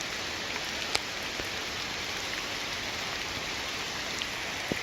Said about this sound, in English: if you don't work in the rain, you're gonna be scared of the rain your whole life.